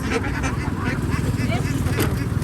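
A crowd of laying ducks in southern Laos calling together, a dense honking and quacking chatter close by, with people talking over the birds throughout.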